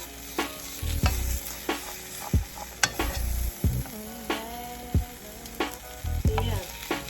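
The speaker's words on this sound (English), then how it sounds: "The eggs are cooking well on the bottom, as you can see." Cheesy omelette eggs frying in a pan give a steady close sizzle, broken by loud clanks and scrapes of a utensil against the pan every second or so, with no talk.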